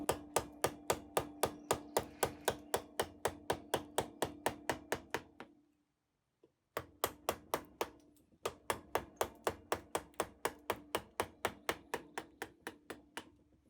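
Hand carving of wood from a canoe bowl, a steady rhythm of sharp close strikes, roughly three per second, pausing briefly partway through before resuming the same even pattern.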